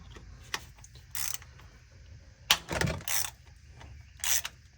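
A ratchet works a transmission pan bolt loose on a 2011 Jeep Wrangler, giving several short bursts of clicking and a heavier clunk, close up and fairly quiet with gaps between strokes.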